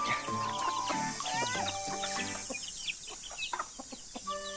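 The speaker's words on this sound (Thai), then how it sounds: "อย่าไล่ไก่สิคะ" Several chickens cluck and squawk close by, their calls overlapping in a busy stream over a steady background hiss.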